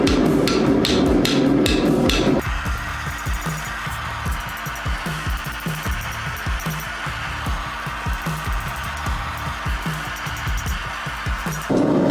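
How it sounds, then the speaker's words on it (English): Hot steel being forged into a dragon head is hammered on an anvil's edge, with a dense burst of rapid ringing blows followed by a long run of steady, evenly spaced strikes, loud and close, with no talk. "I'm going to use the edge of the anvil to actually finish opening it up"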